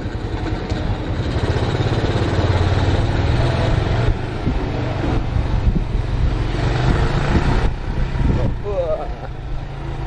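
A kick-started Honda Gorilla custom motorcycle engine, with a weak battery, idles with a low, steady putter throughout, while people talk over it.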